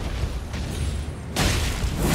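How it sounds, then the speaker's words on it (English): A boss in the Elden Ring video game lets out a big roar: a low rumbling boom swells in at the midpoint and holds loud and broadband to the end, over steady game background noise. "He's doing a big roar."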